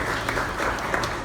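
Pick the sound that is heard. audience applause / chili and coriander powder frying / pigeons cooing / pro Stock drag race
audience applause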